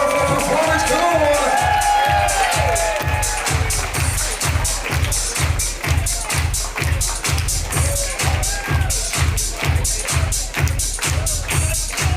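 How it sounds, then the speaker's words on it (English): Wedding reception guests applaud and cheer after a performance, dense loud clapping with whoops running steadily throughout, over a pounding rhythmic music beat and some voices. "a huge round of applause for that wonderful performance"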